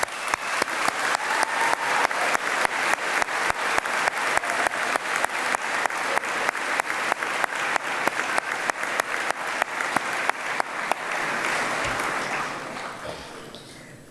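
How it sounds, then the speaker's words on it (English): A large graduation ceremony audience claps steadily for about twelve seconds, a dense, even wash of applause that swells and then fades out toward the end. "Graduates, please join me in a round of applause to thank all those people who have helped you along the"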